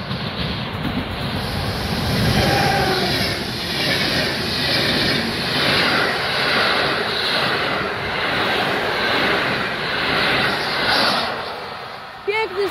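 Train hauled by an EU160 electric locomotive rumbling past at speed, a loud, broad roar that holds steady before easing off at the end, with a voice speaking over it.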